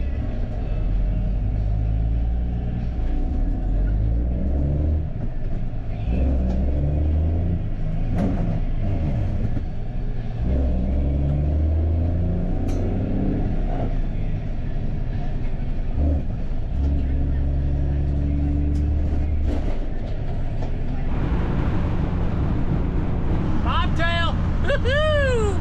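A truck bought as a dream vehicle and needing a clutch brake drives on the highway. Its engine gives a steady, loud, close rumble throughout with shifting drone tones, while someone talks over it.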